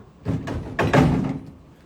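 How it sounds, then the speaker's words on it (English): The drum is lifted off its socket on a RIDGID K-4310 FXP drum sewer machine, giving two heavy, hollow clunks close by with a short gap between them. "auto feed comes off just like that, and then I take the drum"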